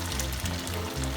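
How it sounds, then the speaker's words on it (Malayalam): Unniappam batter is poured into the cavities of an unniappam pan, a short, soft liquid pour and trickle heard close up and alone. "ഓരോ കുഴിയിൽ പകുതിയോളം ഒഴിച്ചു കൊടുത്താൽ മതി"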